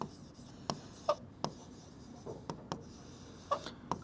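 A pen writing on paper while solving a maths problem, scratching softly and steadily with sharper taps and strokes at irregular moments, close and quiet with no talking.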